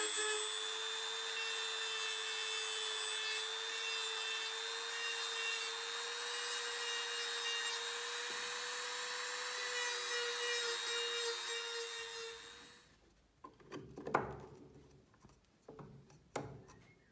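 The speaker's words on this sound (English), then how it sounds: "Using a Dremel, the cutting surface was then sanded." A Dremel rotary tool sanding the cut surface of a homemade expansion cloud chamber, a steady high-pitched whine with rough grinding for about twelve seconds, then quiet handling clicks once it stops.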